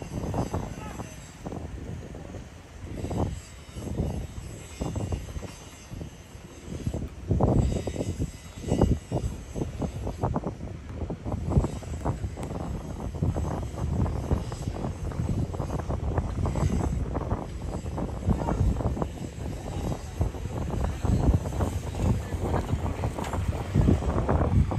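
A boat carrying workers near the Pamban bridge chugs along amid steady wind and water noise, a continuous rough engine drone with gusty microphone buffeting, while someone talks over it.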